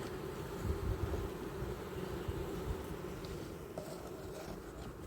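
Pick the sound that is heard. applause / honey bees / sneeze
honey bees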